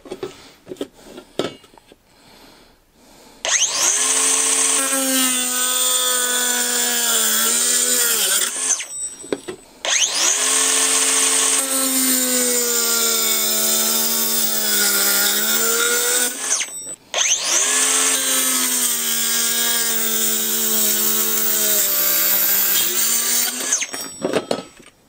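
A DeWalt DCS438 mini angle grinder with a worn disc cuts thin aluminium stretch-ceiling profile in three long, loud screeching passes, each with a high metallic whine, separated by short gaps.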